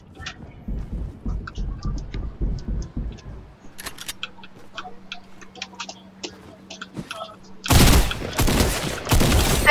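Video game gunfire with bursts of rapid shots and scattered single pops, starting faint and sparse, then a loud dense burst near the end, mixed with clicks and quiet background talk.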